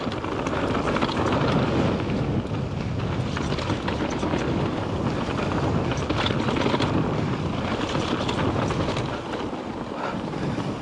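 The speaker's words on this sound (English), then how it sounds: "That was windy as hell." Strong gusting wind roars steadily across a microphone on a mountain bike trail at a Welsh bike park, a dense buffeting rush that fills the scene with no voices.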